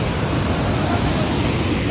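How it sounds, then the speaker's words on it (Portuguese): The 85-metre Salto Belo waterfall roars as a loud, dense, unbroken wash of rushing water, filling the air without pause. "Chegamos aqui ó, cachoeira Salto Belo,"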